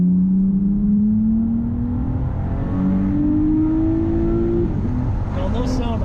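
A car fitted with an MBRP 2.5-inch axle-back exhaust revs, its engine note rising steadily in a loud, sustained howl, heard close with people talking over it.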